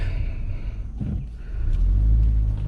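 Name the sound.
2013 Nissan Altima with CVT transmission accelerating normally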